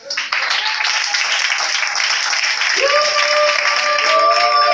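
Church congregation applauding to acclaim Jesus during a sermon, sustained loud clapping from a crowd with shouts mixed in, and sung or held tones rising over the clapping partway through.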